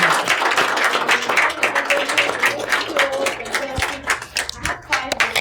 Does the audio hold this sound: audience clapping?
yes